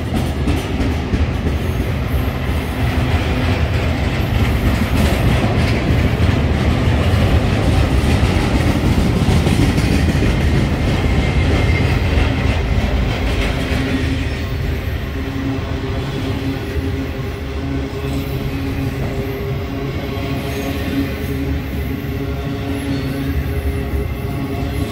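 A westbound BNSF intermodal freight train rolls past near Whitefish Lake and the Whitefish Depot in Montana, loud and steady with a dense rumble and rhythmic rail clatter that eases slightly toward the end.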